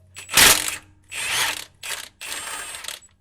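A ratchet with a wiggle-joint extension works on a Ford 302 V8 engine bay in an F-150, giving four bursts of rapid clicking, the first loudest, close up with no talk.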